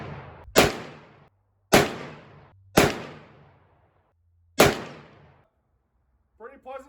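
Four loud, sharp gunshots from a Smith and Wesson Model 66 .357 Magnum revolver, fired close by at irregular intervals of about one to two seconds, each with a short echoing decay, followed by a brief voice at the end.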